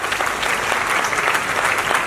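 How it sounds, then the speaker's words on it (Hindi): Audience applauding Dr. Surjeet Kumar at a network marketing event, a dense, steady wash of many hands clapping close and loud for about two seconds, with no talk over it. "एक बार जबरदस्त तालियां इनके लिए साहब।"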